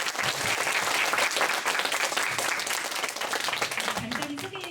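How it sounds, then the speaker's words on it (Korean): Warm audience applause welcoming a prize-winning novelist at a Korean literary reading event, steady clapping from a modest crowd with a faint voice surfacing near the end. "백민석 작가님을 여러분 박수로 모시도록 하겠습니다"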